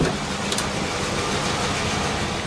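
A Chevrolet Caprice engine idles steadily at close range, a broadband, even rumble that holds without a break and with no voices over it.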